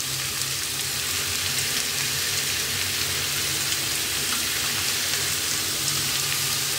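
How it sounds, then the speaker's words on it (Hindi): Vegetables being roasted in a pan, giving a steady, dense sizzle and crackle like light rain that holds evenly at close range throughout, with no talking. "सब्जी मेरी हो गई, डाल दिया है इसको हम भून लेते हैं"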